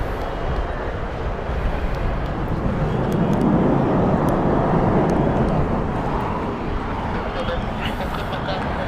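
A British Airways Airbus A380 rumbles past at Heathrow with a broad, roaring engine drone that swells and fades, fairly loud at a distance, with voices in the background.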